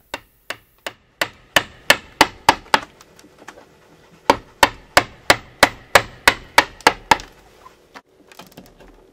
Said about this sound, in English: They're the bullnose chisels. They're basically flat with a slight corner on the edge. And they're used now to remove the waste wood between the two previous zones.